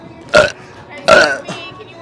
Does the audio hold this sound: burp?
yes